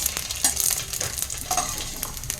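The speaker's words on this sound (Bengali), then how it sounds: "এগুলো একদম লাল লাল করে ভাজা হয়ে গেছে" Papad pieces frying in hot oil at home, puffing up into fuchka shells; a steady close sizzle with small crackles and occasional stirring scrapes, no talking.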